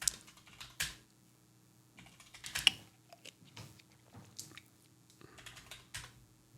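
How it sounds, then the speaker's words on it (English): Computer keyboard keys being typed in irregular bursts of clicks with pauses between, close and fairly quiet, during a gaming session. "We're just going to start typing words."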